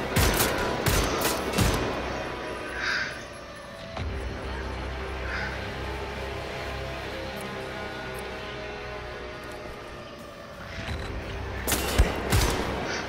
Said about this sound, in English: That's a big ass fucking sniper rifle there